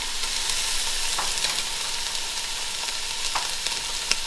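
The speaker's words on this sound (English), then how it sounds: "Stir it in, mix it in a little bit." Curry being stirred in a pan, a soft steady sizzle with occasional scraping clicks of the spoon against the pan, close and fairly quiet, no talking.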